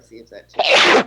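A loud, close sneeze bursts out right after a few quick spoken words, sharp and breathy with a broad hissy spray of sound.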